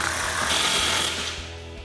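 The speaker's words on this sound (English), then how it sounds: "tighten it down with a 15mm socket" A 15mm socket wrench tightens an exhaust clamp on a Jeep Wrangler JK's aFe Rebel Series cat-back exhaust, giving a dense, steady mechanical whirring rattle, loud and close, that eases off near the end.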